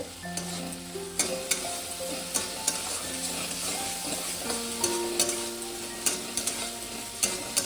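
Masala with tomato sauce stirred in a pan for paneer Manchurian: a constant sizzle runs under repeated metallic clicks and scrapes from a spatula striking the pan, near and moderately loud, with faint background tones.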